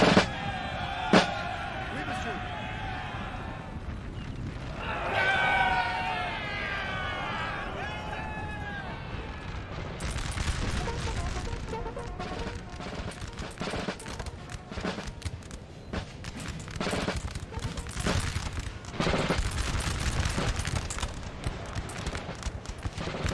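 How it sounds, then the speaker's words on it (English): Artillery and musket fire from Napoleon: Total War thumps and cracks in irregular volleys, building into dense overlapping bursts during the second half, with a voice talking over the battle. "They have artillery pushing up as well, or artillery firing."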